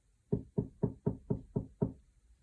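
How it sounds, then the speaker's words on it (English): Tapping knock at a door on a snowy night, seven evenly spaced firm knocks in a quick steady rhythm, clear and close against quiet. "Suddenly, Percy heard a tapping sound."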